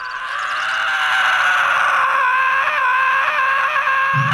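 A sped-up recording of solar vibrations: a high, wavering tonal sound swells and holds, shrill and eerie with a slight warble, rising in loudness then sustaining steadily.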